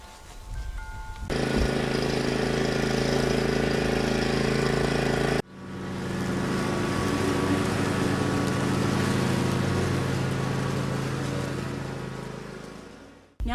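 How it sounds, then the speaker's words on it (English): A gas weed eater (string trimmer) runs outdoors in a garden, a loud, steady, buzzing engine drone that cuts out abruptly partway, then restarts and holds a sustained whine before stopping. "I'm just using the weed eater for this way and the riding mower for that way"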